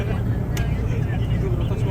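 A crowded airport bus near Tirana airport rumbles along steadily, its engine and road noise a constant low drone under talk.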